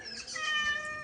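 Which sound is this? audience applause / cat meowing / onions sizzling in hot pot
cat meowing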